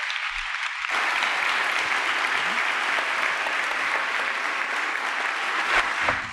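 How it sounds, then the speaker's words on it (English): An audience at a veterans' expo bursts into loud, sustained applause to welcome Simon Sinek, the clapping steady and full after a short opening moment. "Give him a round of applause."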